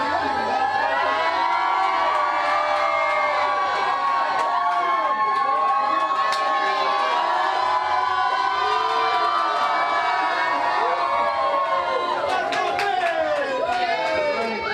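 A large crowd cheers and shouts at a New Year's Eve countdown show, a loud continuous roar of voices and whoops filling the space, with a fresh swell of shouting near the end.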